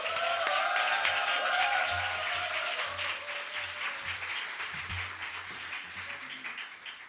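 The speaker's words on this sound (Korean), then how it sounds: "우리 큰 박수와 함성으로 목사님 모시겠습니다" Church congregation applauding and cheering to welcome the pastor, sustained loud clapping with shouts mixed in across the whole stretch, slowly easing toward the end.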